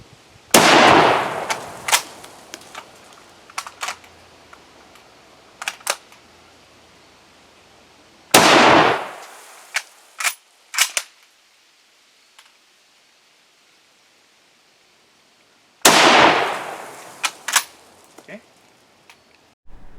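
Three loud nearby gunshots from a rifle fitted with a bayonet, spaced several seconds apart, each a sharp crack followed by a rolling echo and smaller clicks and thumps of handling in between.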